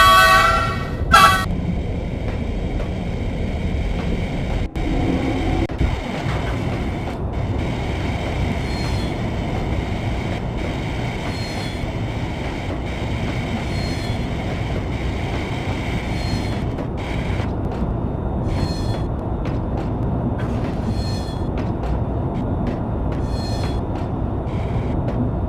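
In the Trainz Simulator video game, a commuter train departs with a steady rolling rumble, wheel squeal, and short horn toots, continuous and loud throughout.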